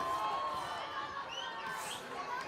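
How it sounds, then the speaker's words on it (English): Boxing arena crowd at a fight between Jesus Soto Karass and Macias, a steady roar of cheering and chatter with brief rising shouts, fairly loud and continuous throughout. "Let's listen to the crowd just enjoying this."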